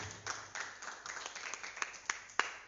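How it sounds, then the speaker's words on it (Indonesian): A church congregation claps, with a handful of scattered, fairly faint claps building toward a few sharper ones, over a quiet room. "Beri tepuk tangan dulu bagi Tuhan Yesus."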